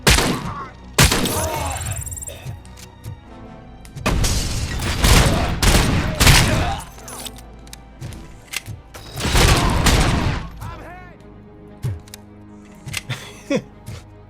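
Gunfire in the RoboCop: Rogue City video game: loud bursts of rapid shots with shattering impacts and heavy thuds, coming in several clustered volleys separated by quieter gaps.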